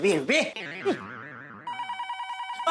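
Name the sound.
telephone ringing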